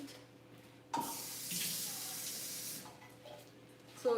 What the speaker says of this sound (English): So to this I'm adding 1/2 cup water.